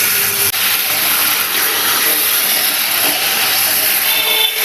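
Marinated mutton with ginger and garlic sizzles in hot oil, a loud, constant crackling hiss close up with no pauses and no talking.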